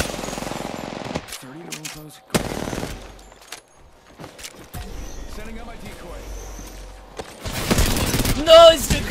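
Gunfire in the Apex Legends battle royale game: bursts of automatic and shotgun fire crackle in clusters between stretches of quieter game noise, with speech heard over parts of the action.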